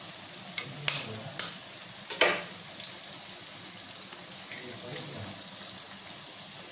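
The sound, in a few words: eggs frying and being stirred in pan for macaroni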